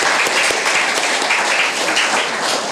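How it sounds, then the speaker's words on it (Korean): A church congregation at an anniversary service applauds its choir: loud, dense, continuous clapping from many hands that holds steady throughout, with no voices rising above it. "한 번 더 크게 박수 한번 드리겠습니다."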